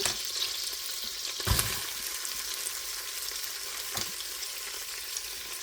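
Celery and onion sauté in melted butter with a soft, continuous sizzle, broken by two short clatters of utensil against pan.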